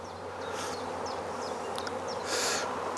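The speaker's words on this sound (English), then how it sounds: "there's quite a lot of bees flying around" Honey bees fly around an open National 14x12 hive during an inspection, a busy buzzing drone with several individual bees zipping past close to the microphone, steady and fairly loud with no talk.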